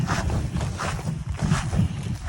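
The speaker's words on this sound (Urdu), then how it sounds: "میرے پاؤں سے پیدا ہونے والی آواز میرے کانوں کو سرور پہنچا رہی ہے" Footsteps crunch along a dusty dirt path between farm fields, a steady close walking rhythm with gritty scuffs on each step, with no voices.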